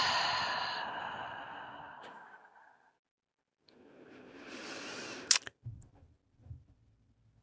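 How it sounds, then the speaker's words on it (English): A group exhales together through their mouths in a long, breathy sigh that fades away over about three seconds. A quieter second exhale follows, then soft breaths and a few clicks. "Exhale through your mouth together."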